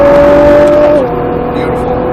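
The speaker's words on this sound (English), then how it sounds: "Start feeding that throttle. And on the gas." A Nissan GT-R revs hard under acceleration on a race track, its engine tone climbing and then dropping at a gear change, loud and close inside the car, with someone talking over it.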